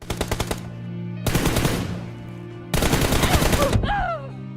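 Gunfire in a mobile shooting video game: three loud, rapid automatic bursts at close range, each a fast string of shots, over a steady game tone, with a brief whistling effect at the end.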